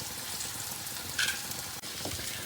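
Three eggs crack into melted butter in a frying pan and start to fry, a dense, even sizzle close by with one brief brighter spit partway through.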